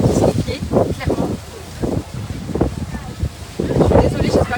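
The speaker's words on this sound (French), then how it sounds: "il y a beaucoup de vent." Strong outdoor wind buffets the microphone in heavy, uneven gusts with deep rumbling bursts, and a voice is partly buried beneath it.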